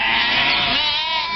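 A goat gives a single loud, wavering bleat at close range. It lasts about a second and a half, with no other sound around it.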